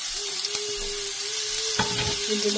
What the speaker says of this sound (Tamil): வெங்காயம் பச்சை மிளகாய் எல்லாம் போட்டு வதக்கிறேன்